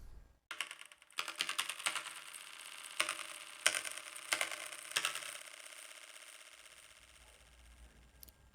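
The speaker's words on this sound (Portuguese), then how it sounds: "E agora vamos ouvir um trecho um pouquinho maior do teclado para vocês sentirem." Dense clicking keystrokes from a nearby keyboard, bursts of rapid taps with a few louder key strikes, fading into quiet near the end.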